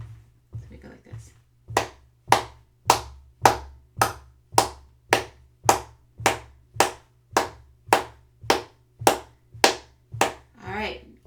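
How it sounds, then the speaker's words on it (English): Children in a lesson clap hands in a steady marching beat, about fifteen sharp, evenly spaced claps close by, with a low rhythmic thud of marching feet beneath and brief talk at the start. "And we're going to clap with our marches."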